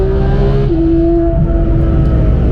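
A Porsche 991 GT3 engine running flat out in fourth gear on the Nürburgring, a loud, steady, close-up roar whose pitch climbs slightly partway through.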